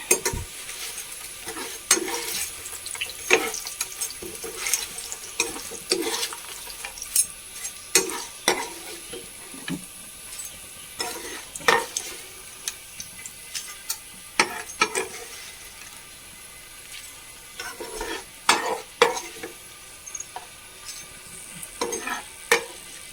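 Elephant foot yam pieces frying in oil on low heat, a soft continuous sizzle punctuated by repeated clinks and scrapes of a spoon against the pan, lifting pieces out at uneven intervals, close and without speech.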